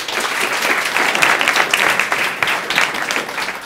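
Studio audience of a Greek comedy show clapping. The applause is steady and lively and fills the whole moment with no voices over it.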